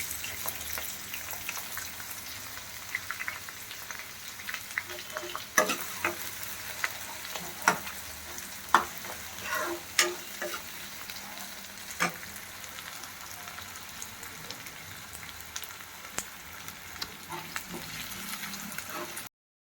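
Onions sizzle and crackle in a hot pan as they are stirred while cooking for a hotel-style veg kurma, a steady frying hiss with scattered sharp pops and scraping, close and fairly soft, with no talking.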